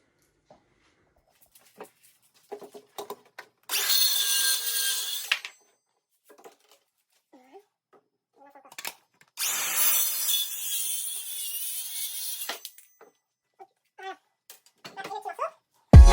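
Old bark being scraped off wood and table legs being sanded by hand, heard as two long rasping bursts separated by pauses, with scattered light knocks and handling noises between them.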